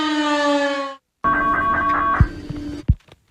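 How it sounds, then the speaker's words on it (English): An EAS emergency siren rings out loud with a steady, harmonically rich tone for about a second, then after a short gap returns as a second wavering siren tone with a few thuds over it, ending with brief knocks. "Okay, that's a normal siren one."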